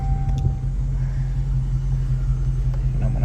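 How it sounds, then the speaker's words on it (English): Jeep 392 V8 engine idling with a steady low rumble as it rolls slowly into a driveway, fairly close and continuous with no voices over it. "you guys can barely hear the car"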